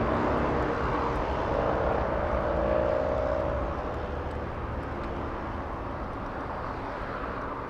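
Delta flight 465 to Honolulu at LAX: a steady airliner engine roar with a brief whining tone in the middle, gradually easing slightly as the aircraft moves off.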